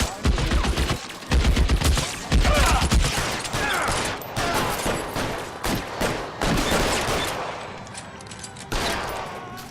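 Video game gunfire in L.A. Noire: rapid bursts of shots and volleys, loud and near, repeating in clusters across the whole stretch.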